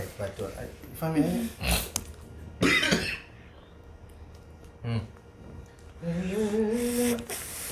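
A short cough from a student in a Qur'an recitation lesson, followed by voiced sounds and brief speech-like bursts in a quiet room.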